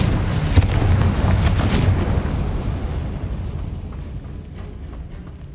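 A Confringo fire spell explodes in the Hogwarts Legacy video game: a loud, roaring blast that holds for about three seconds, then fades into a duller, lingering rumble.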